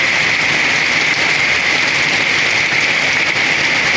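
Heavy typhoon rain pours down steadily in Santa Cruz, a dense, loud, unbroken hiss with no voices or pauses.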